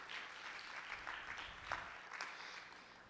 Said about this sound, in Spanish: ¿Por qué no le damos un fuerte aplauso a nuestro Señor por lo que es capaz de hacer en la vida del hombre?